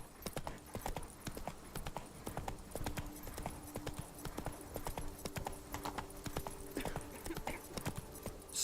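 Roach the horse's hooves clip-clop at a gallop on the ground in The Witcher 3, a rapid steady rhythm of close hoofbeats, with a low steady tone underneath and brief talk over it.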